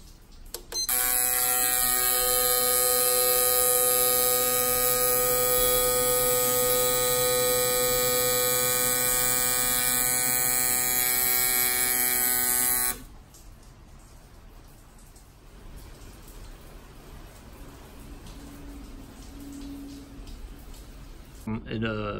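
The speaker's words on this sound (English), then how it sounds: "The pump turned on with the ECU." A fuel pump on an Autool 150 injector cleaning machine hums loudly and steadily with a tonal electric whine for about twelve seconds, then shuts off, leaving a quieter background hiss.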